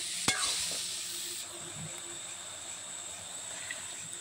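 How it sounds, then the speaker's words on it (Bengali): Faint frying hiss of potatoes and eggplant in a pan as turmeric powder goes in, with a sharp clink near the start and a few soft stirring scrapes against a steady sizzle, no speech. "হলুদ গুঁড়োটা দেওয়ার পরেও আমি ভালো করে নেড়ে চেড়ে নেব।"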